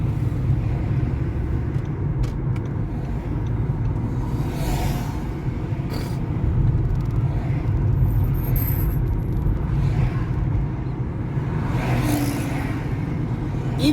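Road traffic heard from inside a moving vehicle in Dagoretti, Kenya, a steady engine rumble and tyre noise with passing cars, continuous and moderately loud, with a few faint high squeals.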